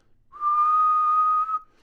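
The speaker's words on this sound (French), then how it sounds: "Vous pouvez siffler une fois." A single steady whistled note held for just over a second, clear and close, with no other sound around it.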